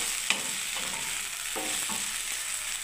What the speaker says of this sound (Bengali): এখনও ভাজা হচ্ছে ওর ভেন্ডিটা বেশি ভাজা যাবে না